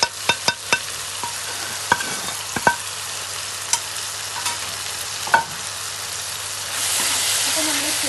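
Prawns with turmeric fry in a pan while a utensil stirs and scrapes them, giving sharp clinks over a quiet sizzle that swells louder near the end.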